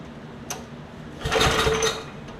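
A small engine is cranked without choke: a brief click, then a short rapid whirring burst of about a second that fades, with no talk.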